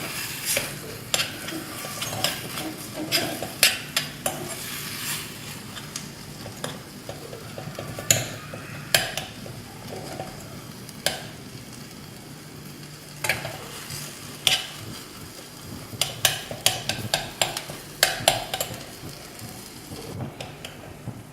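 Fish sizzles steadily in a hot pan for Kerala-style meen pollichathu, a dense crackling hiss with sharp pops and spatters scattered throughout, close and continuous with no talking.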